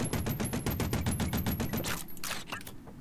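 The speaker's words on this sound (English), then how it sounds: "Forku machine gun." A Forku machine gun in Voidigo fires a steady rapid stream of shots for about two seconds, then a few trailing pops fade out.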